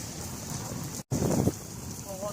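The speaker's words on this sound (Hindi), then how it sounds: "बारिश तो हो रही है पर हवा बहुत चल रही है" Strong wind gusting through heavy monsoon rain in Jaipur, a broad steady roar that cuts out for an instant, then surges back louder before easing, with a faint voice near the end.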